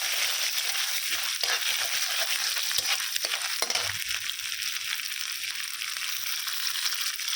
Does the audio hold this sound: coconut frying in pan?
yes